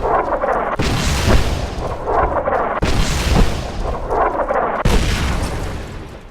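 Gunfire and explosions in Fallout: New Vegas form a loud, continuous barrage of roaring blasts and rattling shots, with three sharp booming impacts standing out at regular intervals.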